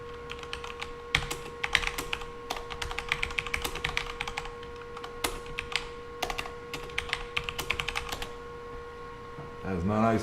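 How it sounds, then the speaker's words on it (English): A new, very sensitive computer keyboard is typed on at close range in rapid bursts of clicky keystrokes with short pauses, over a steady electrical hum. "I am still getting used to this new keyboard."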